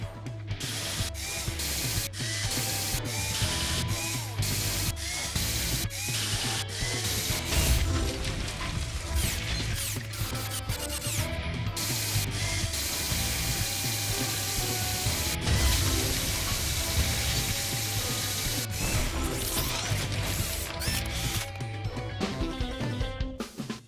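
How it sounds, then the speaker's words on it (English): A drill in the video game Paw Patrol: Adventure City Calls clatters and ratchets continuously, with dense, rapid mechanical clanking and gear noise throughout. "Drill. Move this to place the drill."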